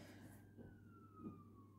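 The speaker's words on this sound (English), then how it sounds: "Oh, I've got sirens in the background." A distant emergency siren wails faintly in the background, a thin steady tone gliding slowly downward beneath low room noise.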